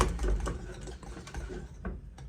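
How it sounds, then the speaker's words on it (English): Bechamel white sauce being whisked in a pan, a rapid, steady scraping and tapping of the whisk that runs continuously, close and moderately loud, with no voices. "Just see a lot of whisking."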